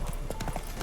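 Hooves of a horse galloping in The Witcher 3, a quick run of clip-clop beats over game sounds and a busy background, with voices grunting.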